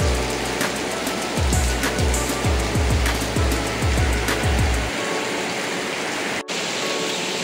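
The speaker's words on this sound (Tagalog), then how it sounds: "Pero umuulan na naman sa labas." Steady heavy rain from a typhoon hisses throughout, with repeated low thumping knocks for the first five seconds, then the rain continues alone.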